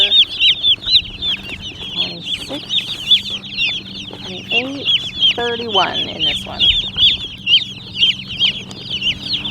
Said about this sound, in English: we did order 60 Cornish cross chickens, and then we should have 25 egg layers.